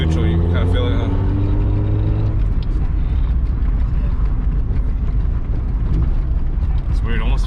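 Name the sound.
Honda CRX rolling with noise like a flat tire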